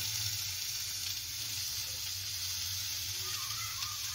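Tomatoes and salt sizzle in a pan while cooking a pointed gourd and shrimp curry, a soft, steady, even crackle with no voices.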